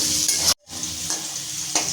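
Potatoes with turmeric and salt frying in mustard oil, a steady close hiss and sizzle with a few stirring scrapes and one brief dropout.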